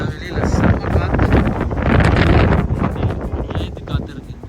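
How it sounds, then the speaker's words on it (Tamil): Strong wind gusts outdoors near a berry barn in Saskatchewan, a loud, continuous roar buffeting the microphone, swelling and easing over several seconds. "வெளியில் செம்ம காற்று"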